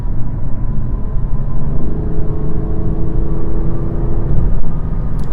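A car cruises along the I-10 East highway in Houston's West Loop, a steady loud low road rumble and tire whir with engine hum, no voices over it.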